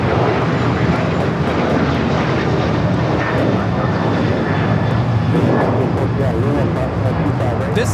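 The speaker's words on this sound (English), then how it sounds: "This is Alaska Airlines Flight 6 taking off to Washington Reagan National on the 737-800" Alaska Airlines Boeing 737-800 taking off from LAX for Washington Reagan National, a constant heavy engine roar with a high whine, while a person talks over it throughout.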